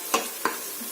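A spoon stirring chicken biryani masala in a pot at home: two quick scraping strokes over a faint sizzle, close by, with no talking.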